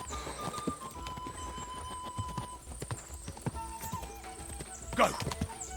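Horse hooves clip-clop in a steady gallop through the medieval RPG Kingdom Come Deliverance 2, with a brief whinny near the end over faint game ambience.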